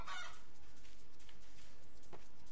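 A chicken clucks in Zombie Heart Chicken, an OUYA video game, as a brief squawking burst at the start and another short cluck later, heard over steady game background noise.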